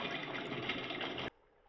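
Water pours steadily onto a cup of chana dal set to soak for Andhra-style Poornam Boorelu, a loud continuous gushing fill that stops abruptly, leaving only quiet room tone.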